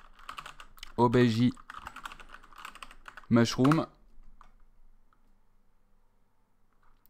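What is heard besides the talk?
typing on a computer keyboard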